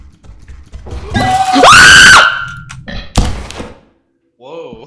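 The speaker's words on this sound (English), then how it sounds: "did you just scream?" A person screaming during a Lethal Company game session, a loud, sharp, rising shriek lasting about a second, followed by a thump and a short exclamation, heard close over voice chat.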